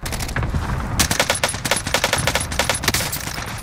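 Sustained automatic gunfire in the Call of Duty Rebirth Island video game, a loud, rapid burst of shots fired continuously at an enemy with no talk over it.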